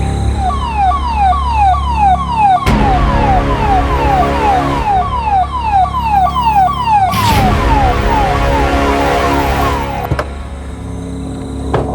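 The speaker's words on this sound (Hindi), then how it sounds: "एम्बुलेंस" An ambulance siren wails loudly and continuously in rising, repeating sweeps, with bursts of rushing traffic-like noise swelling underneath at intervals.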